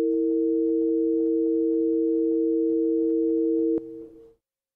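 Two pure sine tones, E and B-flat, sound together as a tritone interval, a steady sustained dissonant chord that holds evenly before cutting off near the end.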